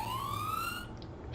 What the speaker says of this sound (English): Surely it's fine and that siren noise won't keep happening.